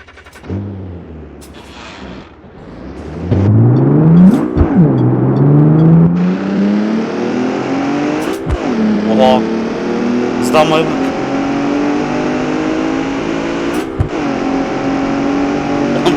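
A Ford Transit van's engine in BeamNG.drive revs hard and climbs in pitch while accelerating at high speed, a continuous loud drone with occasional knocks and clicks as someone talks over it.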